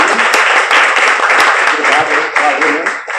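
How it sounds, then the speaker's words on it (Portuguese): Applause from an audience at a lecture on religion and revolution, a dense steady patter of clapping lasting throughout, with voices mixed in underneath. "pedir uma salva de palmas."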